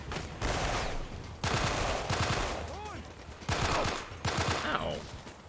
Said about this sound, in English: Stop shooting. We're not the enemy.